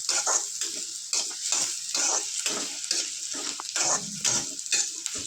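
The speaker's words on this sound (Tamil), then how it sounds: "இப்போ தேங்காவையும் போட்டு கொஞ்சம் வதக்கணுங்க" Grated coconut sautéing in a hot pan with ivy gourd for a spicy chutney, a steady loud sizzle with repeated scraping stir strokes throughout, no voices.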